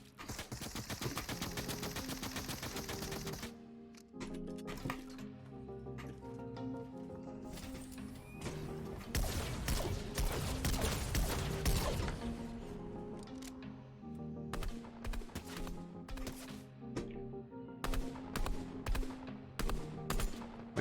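Gunfire in the video game Fortnite from Stark gauntlets, a dense loud stretch of rapid blasts and impacts over game noise and music-like tones, with a quieter pause and then scattered shots returning.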